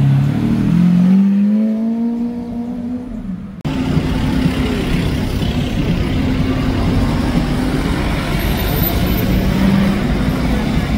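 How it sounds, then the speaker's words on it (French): A Porsche 911 GT3 RS of the 992 generation arrives, its engine note rising and holding as a loud, continuous sports-car drone close by after a brief dip. "il y a une GT3 RS qui arrive, la 992"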